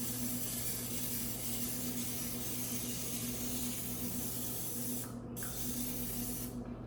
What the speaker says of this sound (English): I like non-stick spray.